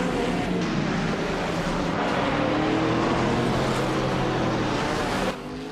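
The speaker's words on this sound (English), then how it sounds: "the race is kicking off at Berlin-Ypres and Amy is starting on pole with the 2009 RSR Jaguar X KRG T2" Race cars roar off the starting line in a racing video game, including a 2009 Jaguar XKR GT2, a dense, loud engine drone with rising pitches that holds steady before dropping off near the end.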